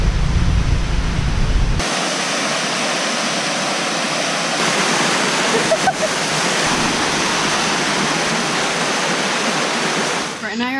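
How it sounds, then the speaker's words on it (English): Jungle waterfall in Khao Sok, Thailand, a loud, dense rush of falling water that pours continuously and close by, with a brief rumbling wind-like burst at the start. "it looks like the driver's letting us stop at a waterfall that we passed on the way to the elephant sanctuary."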